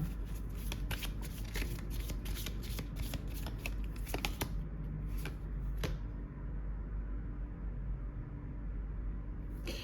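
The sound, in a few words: cards being shuffled for a card reading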